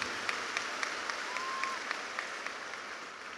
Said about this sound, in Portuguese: Let's clap for Bishop T.D. Jakes